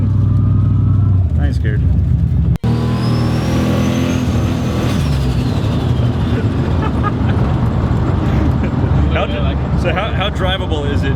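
A car fitted with an 88mm turbo roars loudly under hard acceleration, with rising engine pitch and a sharp break partway through, as occupants talk over the constant engine noise.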